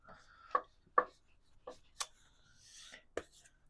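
A palette knife being wiped clean of paint at an oil painting easel: a few sparse, close scrapes and soft taps with quiet gaps between them.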